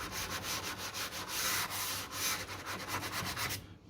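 Steady back-and-forth sanding of a Mk2 Escort door sill with 180 grit paper, a dense rhythmic rasp of regular strokes close up and alone, stopping abruptly at the end.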